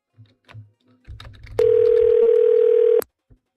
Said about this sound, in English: Oh, I just heard a dial tone.